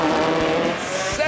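A rally car launches hard off the start line with a loud engine roar and tyre noise, while voices talk over it.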